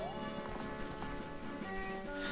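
Horse hooves clip-clop steadily in The Legend of Zelda: Majora's Mask as the horse Epona trots along, a continuous rhythmic patter over game music.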